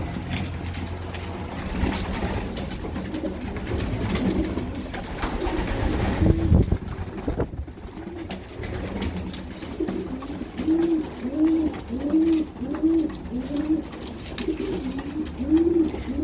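Stock pigeons coo repeatedly inside a loft, the soft rhythmic coos rising and falling in a series during the second half after a stretch of rustling and shuffling movement.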